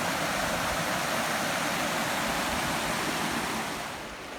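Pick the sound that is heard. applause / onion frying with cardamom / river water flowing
river water flowing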